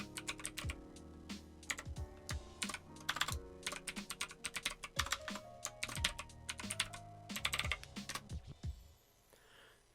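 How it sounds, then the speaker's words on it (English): Rapid, irregular clacking of keys on a computer keyboard as a name and organization are typed in during a Windows Fundamentals for Legacy PCs installation, close and steady with brief pauses, no voices. "Now here we're going to type in the name and organization."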